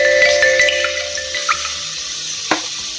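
Ginger garlic paste hits hot oil in a pan for coconut milk pulao, giving a steady sizzle with a few sharp spatters over a constant kitchen hum.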